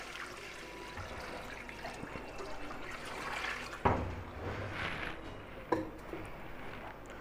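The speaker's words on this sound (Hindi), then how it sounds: "पानी डाल रहा हूँ मैं।" Water splashes and gurgles into a pot holding about 4 kg of bone-in beef, a close steady pour with louder gushes partway through and trickling between.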